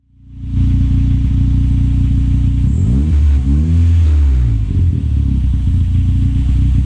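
A turbocharged Toyota Starlet 4E-FE with a straight-through exhaust fires up and settles into a loud, rumbling idle, with a brief blip of revs in the middle before holding steady and close.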